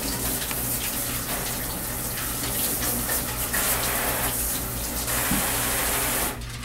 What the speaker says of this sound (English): If necessary, it can be placed under a spigot.